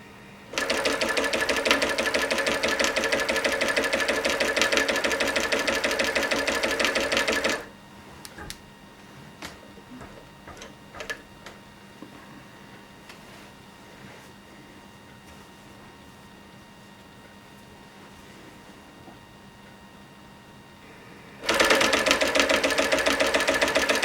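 A sewing machine stitches long hem lines on a Lutterloh pattern garment, running loud and steady for several seconds, then stopping for quiet handling clicks before starting up again.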